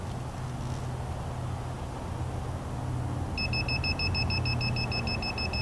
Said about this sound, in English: As I slide the limit switch forward, the beeping starts.